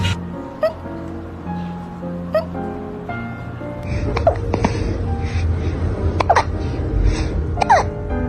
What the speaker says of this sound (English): Have you got hiccups?